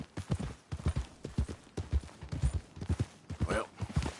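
Horse hooves clip-clop at a brisk walking rhythm in the video game Red Dead Redemption 2, close and moderately loud, with a brief snort partway through.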